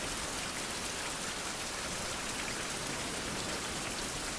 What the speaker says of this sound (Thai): โอ้ยฝนตกเฉย